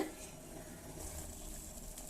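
A soft, steady bubbling and hiss of bamboo tea boiling in a pan, quiet and continuous with no voices.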